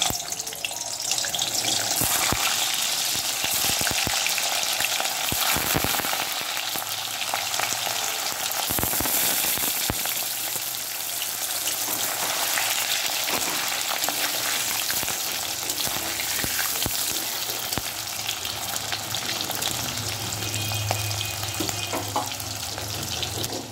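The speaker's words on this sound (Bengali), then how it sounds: "এটা এরকম লাল লাল করে ভেজে নিতে হবে, কড়া করে একটু ভেজে নিতে হবে।" Chitol fish muitha dumplings fry in hot oil in a wok, giving a continuous crackling sizzle with occasional pops, close and steady, with no talking.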